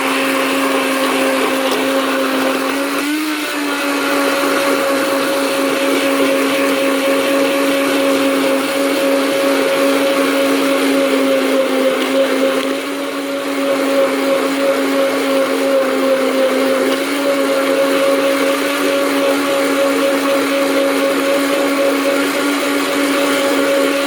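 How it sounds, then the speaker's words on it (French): A kitchen blender whips room-temperature cream toward butter, a steady loud motor whine with a constant pitch running the whole time, with a brief jolt early on and a slight dip midway. "Un mixeur, hein, tout ce qu'il y a de plus simple."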